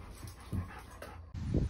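Dog at a veterinary clinic whimpering softly and panting in short, uneven bursts, close by with low background noise and no talking.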